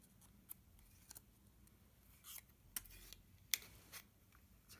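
Scissors snipping card stock for a stamped Santa gift box craft, a few sparse, quiet crisp snips spread across a near-silent background.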